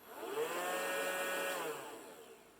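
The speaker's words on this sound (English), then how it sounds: "I should be able to use the vacuum" A Roomba robot vacuum running its suction and brushes on a floor, a steady whirring motor hum with layered tonal whine that holds evenly, then eases down and fades toward the end.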